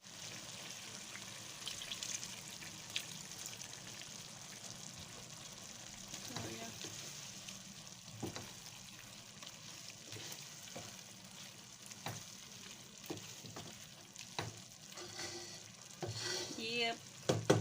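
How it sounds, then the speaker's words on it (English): A pot of ugu and water leaf soup for Nigerian edikaikong, with water just added and coming to the boil, gives a soft, steady bubbling and sizzle with a few light clinks and stirring noises, quiet and close, without speech. "So we'll let it boil for some seconds before we put in our ugu leaves."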